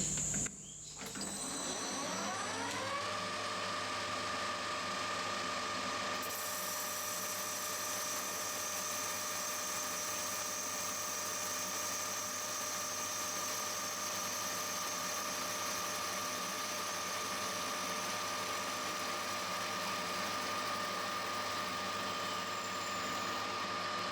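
Dry metal lathe cut with a parting tool and no lubricant: a steady motor hum and faint machining whine run continuously and evenly throughout, after a brief startup at the beginning.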